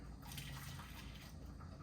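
A small amount of Thailand red rice is poured out, a faint, soft patter of grains running for under two seconds at close range, with no talking.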